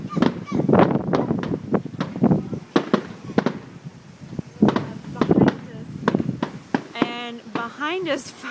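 Firecrackers go off outdoors in Oklahoma as a lightning storm rolls in, a run of sharp, loud bangs and pops, some in quick bursts, with people talking over them and whistling rockets near the end.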